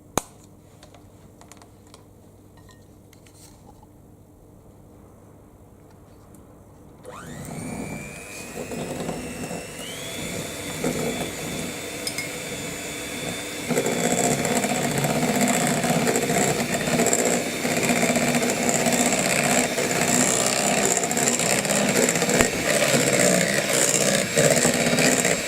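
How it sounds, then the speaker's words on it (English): An electric whisk mixes savoury muffin ingredients in a bowl. It starts after a few seconds of quiet clinking, then runs as a steady loud whir that grows louder and stays level to the end. "I'm going to use my electric whisk, and I'm going to be mixing these together"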